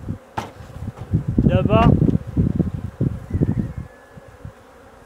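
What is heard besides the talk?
honeybees buzzing around a hive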